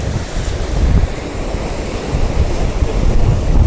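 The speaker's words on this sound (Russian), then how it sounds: "Отличное теплое море. Сильный прибой. Волны, на которых так классно качаться." Strong surf on the warm sea at Miami Beach: a loud, continuous roar of breaking waves with heavy low rumble and some wind buffeting on the microphone, with no voices.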